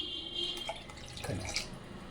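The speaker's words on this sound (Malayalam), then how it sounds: "ഈ ഒരു ഗ്ലാസ് വെള്ളം ചേർക്കണം" Water poured from a glass into coconut milk in a cooking pot for green pea pulao, a short splashing trickle with small drips, close and moderately quiet, no talk.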